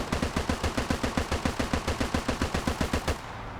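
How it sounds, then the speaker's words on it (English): Automatic gunfire in a military video game set on Raate Road fires as a rapid, evenly spaced burst of loud, close shots that continues for about three seconds before cutting off. "He's trying to dodge fire from the VIX."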